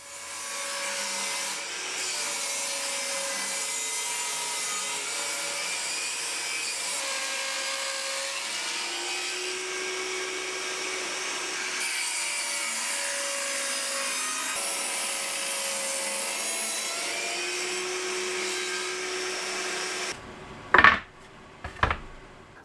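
Lengths of chunky 3x2 timber scraps being ripped down with a power saw produce a sustained whining cut with shifting pitch, followed by a couple of sharp knocks at the end.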